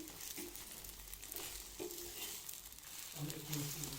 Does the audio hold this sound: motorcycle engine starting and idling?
no